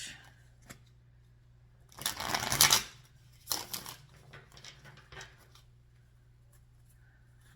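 A Deviant Moon tarot deck is shuffled in a quiet room, with one burst of riffling cards near the start followed by a few shorter rustles and card taps.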